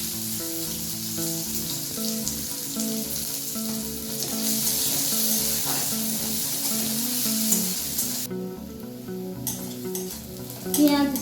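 Chopped onion and three whole garlic cloves fry over a lowered gas flame while being stirred, giving a continuous close sizzle with regular scraping strokes and a louder clatter near the end.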